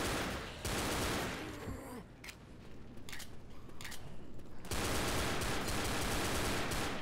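Pump shotgun fire in Left 4 Dead, heavy blasts mixed into dense, continuous in-game gunfire and noise, loud and nearly unbroken across the stretch with little pause between shots.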